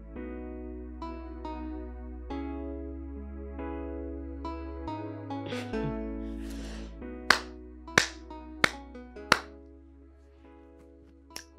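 Four or five sharp hand claps ring out close and distinct over sustained keyboard-like music, spaced about a second apart near the end.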